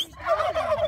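A human voice mimics a turkey gobbling, producing a loud, close, rapidly wavering call that lasts just under a second.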